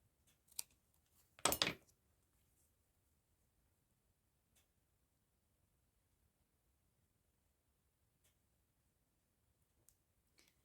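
Scissors cutting off a section of faux washi tape paper, one brief snip followed by a louder crunching cut, then near silence broken by a few faint clicks, close with no talk.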